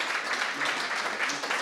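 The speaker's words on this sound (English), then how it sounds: "Give her an applause," Audience applause at a live broadcast show as a guest is called forward: a dense, steady wash of many hands clapping, fairly close and even throughout this short moment.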